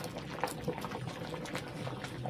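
Khichuri bubbling in a covered pot, a soft steady simmer with small irregular pops and gurgles, quiet and continuous with no voices.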